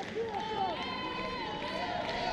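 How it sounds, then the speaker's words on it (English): A football crowd in a stadium roars and cheers after a goal, a sustained dense wall of voices with rising whistles and chants, heard loud and continuous throughout. "start to hear the crowd here in full force"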